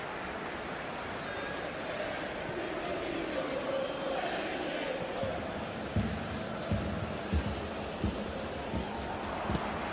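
Stadium crowd noise from the eFootball 2022 video game during a Juventus vs River Plate match, a steady roaring wash throughout with sharper bursts of noise toward the end.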